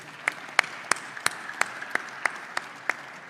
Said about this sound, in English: Please, round of applause for His Excellency.